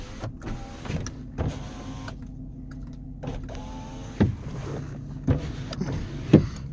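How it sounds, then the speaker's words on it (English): Power windows on a 2010 Chevrolet Silverado run up and down, a steady motor whine broken by several thumps as the glass stops, heard close inside the cab with no talking. "You do have your power windows."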